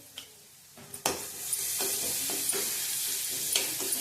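Garlic, green chili and curry leaf paste with asafoetida drops into hot oil for buttermilk kadhi, bursting from near quiet into a loud, steady sizzle broken by a few spoon scrapes and taps.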